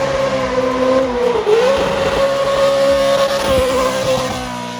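A TRD Cup Car engine screams at very high revs in a sustained, loud, near-constant whine with a brief dip and recovery, close up and unbroken by talk.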